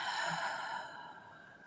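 One deep exhaling breath during a guided breathing exercise, a soft, breathy, close sigh that slowly fades away.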